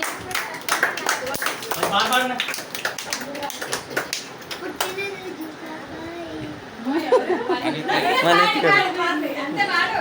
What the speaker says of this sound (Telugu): సిద్ధు క్లాప్స్.